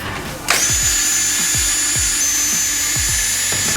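A power tool whirs steadily, high and loud, backing out 10mm bolts from the grill of a 2016–2018 Chevrolet Silverado, with a run of repeated ratcheting clicks beneath the whine.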